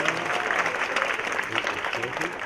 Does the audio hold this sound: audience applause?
yes